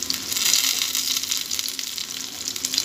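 Vetki (Asian sea bass) fish frying in a pan, one side cooking in hot oil, a dense, continuous, loud sizzle with fine crackling heard close up and no voices.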